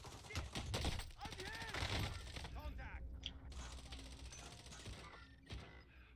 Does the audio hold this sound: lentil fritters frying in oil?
no